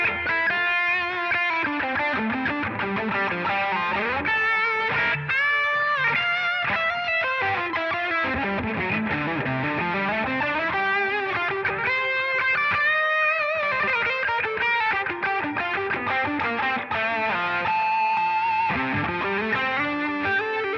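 An electric guitar played through a Valeton GP200 modeler with an overdrive boost and a touch of delay rings out in a continuous melodic lead line, with sustained notes and bends, steady and up front.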